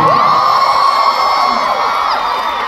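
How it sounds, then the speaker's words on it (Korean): A packed audience at a concert roars and screams continuously in loud, high-pitched cheering, with no talk over it. "큰 박수 부탁드리겠습니다."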